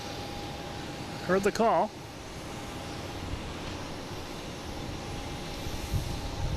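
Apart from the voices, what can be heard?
Porter aircraft taking off at Boston Logan Airport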